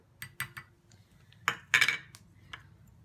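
A metal tablespoon scrapes and clinks against a bowl while scooping flour, giving a few sharp taps and a brief scraping rasp over a low background hum.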